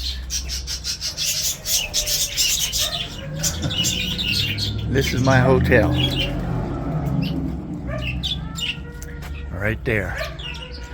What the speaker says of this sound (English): doves with the parakeets